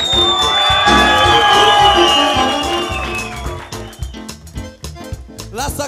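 Live audience at a show at Moara cu noroc cheering, whooping and shouting loudly as a crowd, a sustained dense roar that thins into scattered shouts and claps toward the end, with voices calling out over it.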